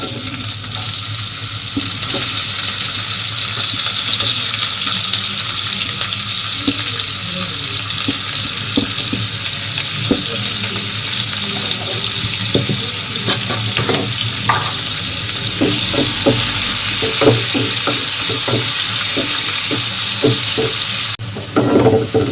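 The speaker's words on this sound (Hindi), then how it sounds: "अब डाल दूंगी चॉप प्याज" Chopped onion hisses and sizzles in hot oil with cumin and bay leaf, a loud continuous frying crackle punctuated by occasional stirring clicks, with no talk.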